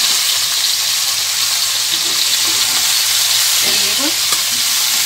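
Taro stolons frying in a pan, a steady broadband sizzle with faint stirring scrapes and clinks, close and continuous with no talk.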